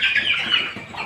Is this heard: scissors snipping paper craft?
no